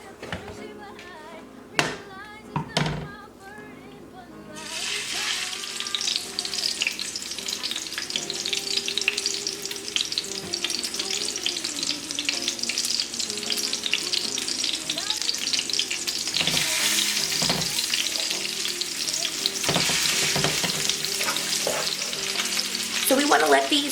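Salmon burger patties sizzle loudly and steadily in a hot pan, with a few sharp taps at the start before the frying settles into a continuous close hiss.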